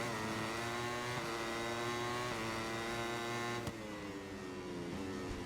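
A motorcycle engine in MotoGP 22 drones at high revs, its pitch climbing steadily through several gear shifts with brief dips as the bike accelerates, loud and close.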